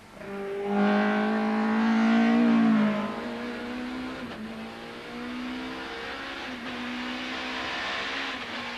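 A 1992 BTCC touring race car engine revs hard and climbs through the gears with clutchless upshifts, each pull rising in pitch, loud and close with no talking.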